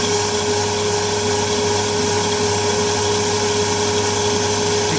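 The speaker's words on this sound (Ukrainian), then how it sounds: "Шумний дуже мотор. Сам по собі він шумний." A loud 220 V pellet mill motor drones continuously with a steady hum and broadband mechanical noise, unchanging throughout, close by.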